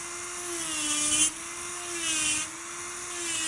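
An electric nail file whirs steadily while filing an acrylic pink-and-white nail, its motor pitch dipping and rising slightly as it presses against the nail, close and continuous.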